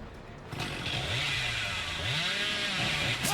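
Chainsaw revving steadily from the killer Billy in the game Dead by Daylight, a continuous loud motor drone with wavering pitch held through the whole stretch, no talk over it.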